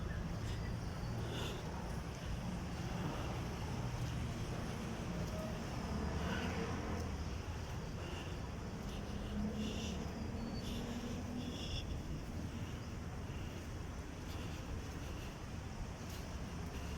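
Steady low wind rushing through trees, a constant broadband hiss and rumble that stays even throughout, with faint scattered background sounds.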